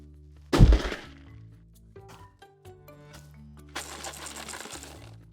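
A cardboard box dropped in a classroom demonstration lands with one loud, close thunk near the start, followed by a faint rattle of something loose inside, then scattered softer clatter and a longer stretch of noisy shuffling.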